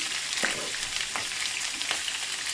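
Chopped onion, three medium-size onions cut small, sizzling in a pan, a steady close hiss with a few brief scraping strokes, no voices.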